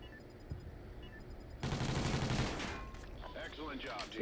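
Rapid gunfire bursts in the video game Warhawk, dense and loud over game effects, with voices talking during the shooting.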